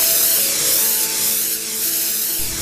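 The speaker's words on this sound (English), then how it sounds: "we go over with a spray of grey primer" Grey primer sprayed from a can onto cast award heads in a sculpture studio, a loud, continuous close-up aerosol hiss with slight pulsing.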